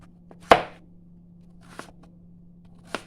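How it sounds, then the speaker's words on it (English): Pumpkin is cut into small cubes on a board, with three separate knife chops spaced about a second apart, the first the loudest and sharpest, over a steady low hum. "Pumpkin we just cut in cubes."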